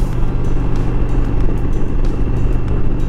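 A Dodge Challenger with its catalytic converter deleted, running stock exhaust pipes, gives off a loud, close, steady, throaty rumble that barely changes and has no voices over it.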